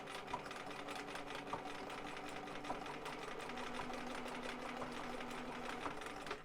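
A sewing machine stitching a zigzag blind hem along a fabric fold, a steady rapid mechanical whir with a regular clicking pulse, close and continuous with no talk.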